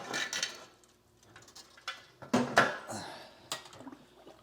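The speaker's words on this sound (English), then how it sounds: "So I'm going to mix the mash." A paddle stirs thick brewing mash for a home-brewed West Coast IPA, producing scattered soft knocks and scrapes against the pot, with quiet talk in the background.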